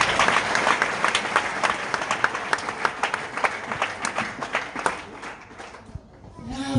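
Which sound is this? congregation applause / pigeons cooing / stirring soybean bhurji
congregation applause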